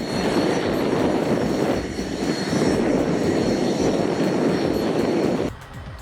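A Piper Meridian turboprop roars steadily at full takeoff power from inside the cabin, a loud sustained engine drone that drops sharply near the end.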